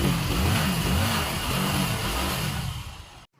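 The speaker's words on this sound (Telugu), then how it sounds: "కిక్ కొట్టగానే సింపుల్గా బైక్ అయితే స్టార్ట్ అయిపోయింది" A kick-started motorcycle engine catches and runs loud and close, a rough pulsing throb for about three seconds before cutting off abruptly, with no talk over it.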